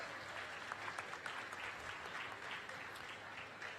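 Steady applause from an audience at a university campus inauguration, a sustained wash of clapping at a moderate distance with no voices.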